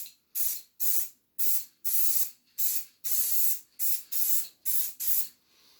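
Spray paint hisses from an aerosol can onto a pinball backglass in about ten short, even bursts separated by brief silences, close and fairly soft, with no talking.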